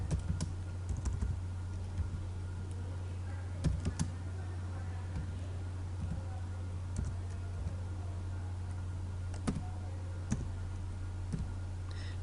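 Steady typing on a computer keyboard, entering Urdu text on a Windows PC: scattered light key clicks and taps in irregular bursts, close up, over a constant low electrical hum, with no talking.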